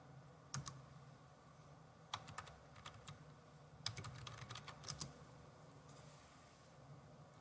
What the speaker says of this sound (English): I'm going to type in the email that I'm using here.